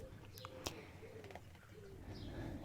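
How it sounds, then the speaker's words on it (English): Birds coo and chirp outdoors near a splashing fountain pond with fish on a cool early summer day after soft rain, faint calls scattered over a steady soft wash of water. "You might be able to hear the fountain splashing in the pond with fish, lots of birds."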